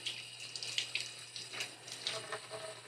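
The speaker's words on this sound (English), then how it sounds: "I'm just going to kind of give these a quick little rinse." Tap water runs and splashes steadily over ears of sweet corn being rinsed under a faucet, with small irregular spatters and drips throughout.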